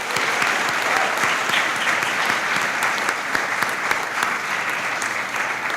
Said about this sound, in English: Ask for one more round of applause for all of today's award winners.